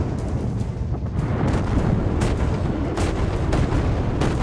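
Rapid gunfire in the video game Lost Skies as shots strike an enemy, a dense, loud barrage of booming reports with sharper cracks spiking through at intervals.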